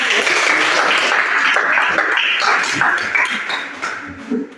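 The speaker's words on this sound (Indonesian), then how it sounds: "berikan tepuk tangan untuk kelompok 1" Classroom applause for a student group, a dense burst of clapping from many hands that holds steady, then thins and fades near the end.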